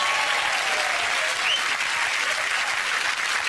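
Studio audience applauding and cheering steadily throughout, a dense, even wash of clapping with no talk over it.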